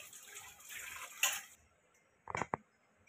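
Raw chicken being rinsed with water, a faint splashy wash of running water that stops partway, then a couple of brief louder splashes and drips, quiet and close with no talking.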